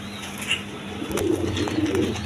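Danish pigeons coo in short repeated low murmurs at close range, a soft steady hum and background noise running beneath them.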